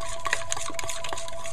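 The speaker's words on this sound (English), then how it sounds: "So mix it up all nicely here." Chocolate brownie batter stirred in a bowl, with a steady run of close scraping and soft clinking strokes from the utensil against the bowl and no talking.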